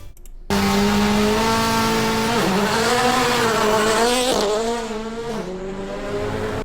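A Subaru rallycross race car revs hard after a brief quiet start, the loud engine rising and dipping in pitch through gear changes as it accelerates away, a strong, buzzing roar with no talking.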